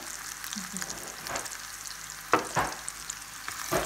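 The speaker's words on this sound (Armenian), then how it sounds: "Ահա և տապակվեց մեր միսն էլ" Beef frying in a pan for a dish with green peas: a steady close sizzle throughout, with a few sharp clatters of stirring near the middle and at the end.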